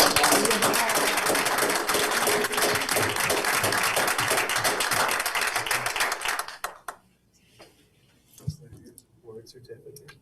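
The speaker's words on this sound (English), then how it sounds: "let's give Megan Phillips a big round of applause." Audience at a school board meeting applauds with dense, steady clapping for about six and a half seconds, then it stops abruptly, leaving a quieter room with scattered sounds and faint talk.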